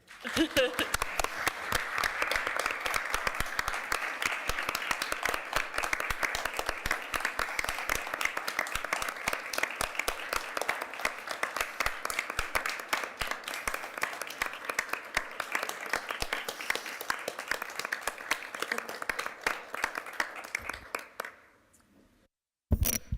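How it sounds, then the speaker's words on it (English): Sustained applause from an audience at a Salt Lake City council meeting honoring a retiring city employee, steady dense clapping for about twenty seconds before fading out. "Let's give a round of applause for Cindy Gus Jensen."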